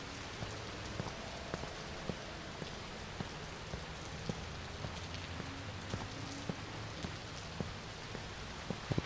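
Steady rain falls on a night street in Chicago in the Watch Dogs video game, with a dense hiss and scattered sharp drop taps, rolling on evenly throughout.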